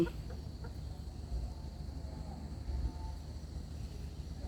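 Chickens cluck softly in the background over a low, steady rumble, with a few scattered calls and no talking.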